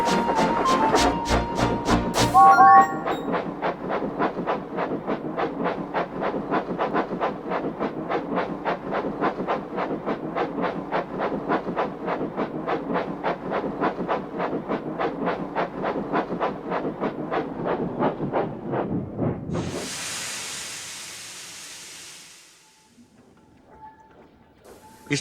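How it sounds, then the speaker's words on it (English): A steam train chuffs steadily along the track in a long run of rhythmic, even beats, loud and close, then ends with a burst of hissing steam and a fade toward quiet. "The fireman drove the train to the next station."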